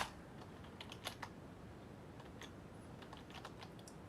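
Quick, light clicking of keys on a computer keyboard, soft and fairly close, with irregular bursts of keystrokes over a faint steady background hum and no one talking.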